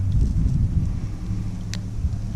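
Wind buffeting the microphone while kayaking at Live Oak Landing: a steady, loud low rumble throughout, with faint splashes and knocks.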